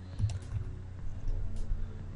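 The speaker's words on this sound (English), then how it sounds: "I'm going to press insert on my keyboard." Keys on a computer keyboard are pressed during 3D modeling work in Autodesk Maya 2014, a few soft, scattered clicks over low background hum, close and quiet, with no talking.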